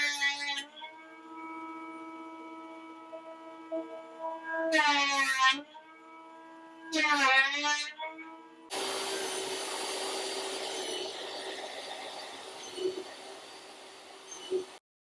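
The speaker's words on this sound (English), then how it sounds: "I'm going to take this to the oscillating sander and put just a gentle curve on there" Oscillating spindle sander shaping a gentle curve into a wooden piece for a driftwood-style console table, a steady motor drone with short bursts of grinding contact, then a rougher, noisier stretch of sanding, close and without talk.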